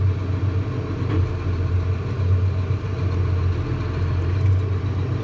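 A farm tractor engine runs steadily in cold winter conditions, a loud, close, continuous low rumble with no pauses or voices.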